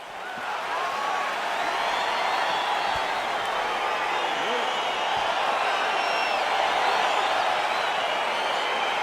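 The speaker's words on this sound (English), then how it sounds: "crowd getting excited as this fight gets underway" An arena crowd at a UFC mixed martial arts event cheers in a broad, steady roar as the bout begins, with scattered whoops rising out of the wash and a commentator talking over it.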